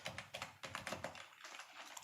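Fast, close tapping on a computer keyboard as a short terminal command is typed, about a dozen quick key clicks in an even burst.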